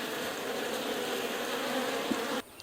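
Honeybees buzz around a new nuc hive in a bee yard, a dense, steady hum of many insects close by that cuts off abruptly near the end.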